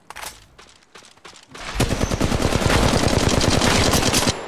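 Sustained automatic fire from a Flatline rifle in Apex Legends Mobile, loud and rapid, a few scattered shots at first and then a continuous burst of closely spaced rounds.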